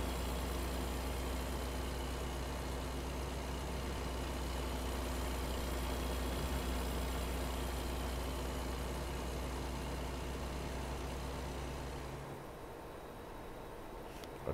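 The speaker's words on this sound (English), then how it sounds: "The engine just idles down." A truck engine idling in American Truck Simulator, a steady low drone with a constant hum that continues evenly before dropping off abruptly near the end.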